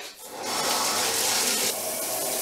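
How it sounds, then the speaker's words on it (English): A shower runs steadily, spraying water close by in a hard continuous rush that swells briefly, with no talk. "So I'm gonna start up the shower again."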